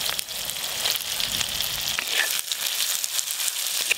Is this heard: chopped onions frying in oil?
yes